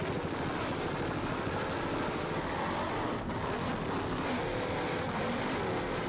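An offshore racing powerboat with big Mercury outboard engines runs in a constant loud roar, with the engine drone and rushing wind and water steady throughout.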